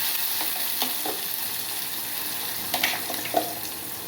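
Chilli chutney sizzles gently in a pan while a spoon scrapes and stirs it a few times, with soft clinks and a steady bubbling hiss underneath.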